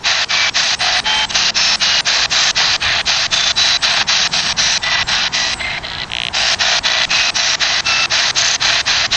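Ghost box radio at Hicks Cemetery in Battle Creek, Michigan, sweeping through stations with rapid, evenly pulsed bursts of loud hissing static that briefly dip and waver midway, with no voices clearly heard.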